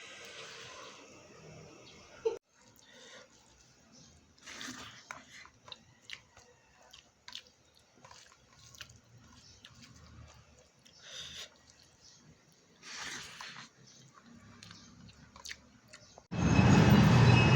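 Someone eats dal, rice and curd with intermittent soft, close chewing and small crunchy bites over a quiet background, ending in a sudden loud rumbling burst.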